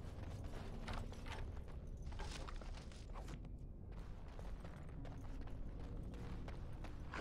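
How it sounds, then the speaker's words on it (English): A trap door mechanism in Dragon Age: Awakening creaks and clatters with gear-like ratcheting and knocking, a faint, busy mechanical churn running steadily for several seconds. "A trap door."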